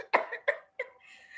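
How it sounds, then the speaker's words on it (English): One person coughs three times in quick succession, short sharp bursts close to the microphone, with a trailing breathy sound afterward. "I'm super excited, so I'm coughing."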